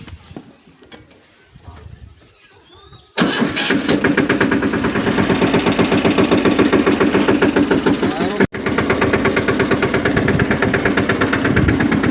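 A tractor engine runs loud and steady after a quiet start, with a chugging, knocking rhythm that drops out for an instant before resuming.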